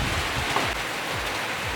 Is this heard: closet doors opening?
no